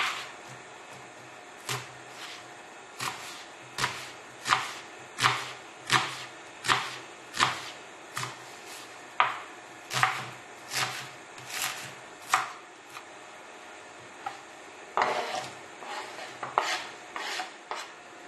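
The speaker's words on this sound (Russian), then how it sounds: "режем лук." Rhythmic knife chops through onions on a cutting board, a regular series of sharp strokes close up, with a faster burst near the end; no voices.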